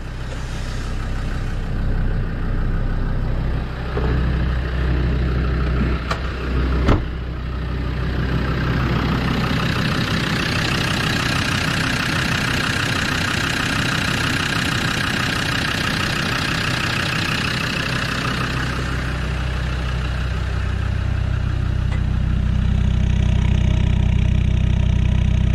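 A Land Rover Defender Td5 diesel engine cranks over and catches, then settles into a steady, loud, close-up idle that carries on with a slightly knocking beat.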